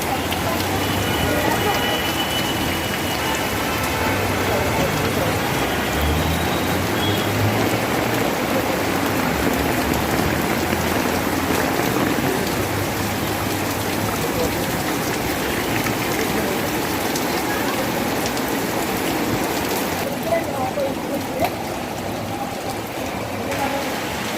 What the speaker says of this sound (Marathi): पाऊस आलाय ना.